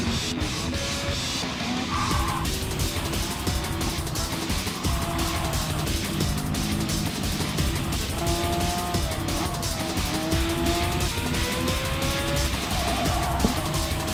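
A Porsche 993 race car brakes late and passes another car, engine note dropping and rising through downshifts with tire squeal, loud and continuous with other racing cars roaring around it.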